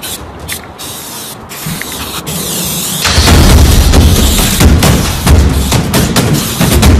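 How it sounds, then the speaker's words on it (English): A quiet start with a few clicks, then a loud, steady hiss of an aerosol can of washable spray chalk spraying in bursts, close up. "Washable spray chalk right here."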